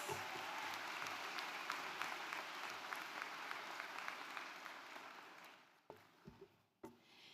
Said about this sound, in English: they deserve another big round of applause